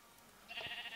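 A single short sheep bleat from a video game rises in the second half, clear and close, after a stretch of quiet background.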